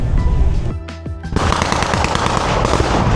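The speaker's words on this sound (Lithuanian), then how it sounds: "Aidi pirmi šūviai." Rapid bursts of machine-gun fire, the first gunshots at the Capel Military Show reenactment of Germans fighting Americans. They come loud and close, with a brief pause of echoing shots before dense, continuous gunfire resumes.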